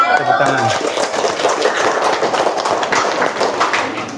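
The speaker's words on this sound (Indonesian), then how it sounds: "Tepuk tangan." Classroom applause after a student group's presentation in a mathematics lesson, a dense burst of clapping from the class that runs steadily for about four seconds after a brief voice at the start.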